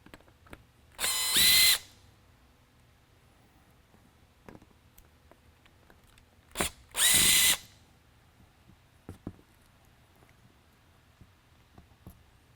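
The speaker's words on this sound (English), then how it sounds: "remove the 4 screws." Power drill backing out screws from a Whelen ION Series surface-mount Super-LED light head, two short close whirring bursts separated by a pause, with faint clicks and handling noise between them.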